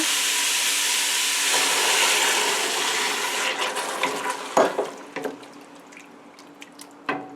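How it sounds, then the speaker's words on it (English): Hot water poured into a pot of browned beef for Hungarian gulyas soup, a loud rushing hiss that fades into scattered drips and small clatters, no talking. "I'm going to add my water."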